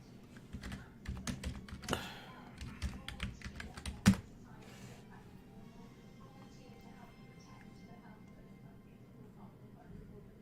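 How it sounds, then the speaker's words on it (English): Computer keyboard typing in bursts of irregular taps over the first four seconds, ending in one sharper hit, with quieter room noise and faint movement afterward. "let me type something"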